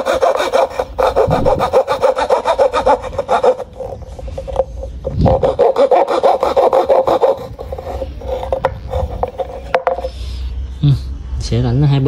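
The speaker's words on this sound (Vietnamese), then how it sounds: "Sau khi mình cưa hai cái rãnh này mình sẽ dùng dao mình gọt rãnh nha" A handsaw rasps back and forth through lemon-tree wood, cutting grooves in rapid repeated strokes, close and loud, pausing briefly between cutting passes.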